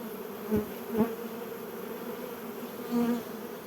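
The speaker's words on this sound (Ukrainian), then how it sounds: "Там он бджоли дуже активно бігають" A dense hum of a honeybee swarm on a tree branch buzzing steadily, with individual bees droning louder as they fly past nearby.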